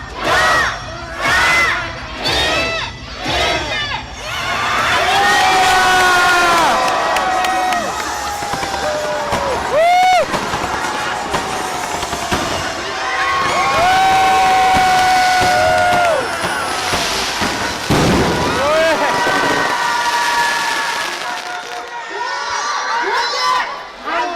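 At Mt Fuji on New Year, fireworks crack and thud in a quick opening volley, then a loud crowd cheers, whistles and shouts continuously, voices rising and falling close by over about twenty seconds.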